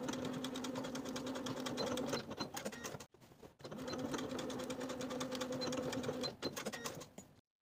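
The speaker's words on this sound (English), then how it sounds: "Then we're going to edge stitch close to the bottom edges of both sides of the collar to finish them off." A sewing machine edge-stitches along the bottom edges of a kimono jacket collar, running in steady close bursts with a brief pause midway and a stop near the end.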